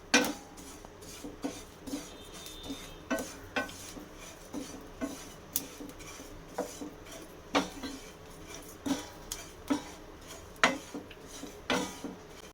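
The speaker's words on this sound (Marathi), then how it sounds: "ह्या लवंगा आणि ही वेलची भाजून घेणार आहोत आणि ओवा हे सगळं एकत्र भाजूया" Cloves, cardamom and ajwain are dry-roasted together in a pan for masala fennel mix, heard as repeated light metallic clinks and scrapes of a spoon against the pan in an irregular rhythm, close and fairly quiet.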